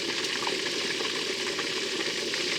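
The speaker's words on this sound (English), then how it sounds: "we watch these here fries fry" Fries sizzle in hot oil in a pan, a dense, steady crackling hiss that holds close and even throughout with no talking.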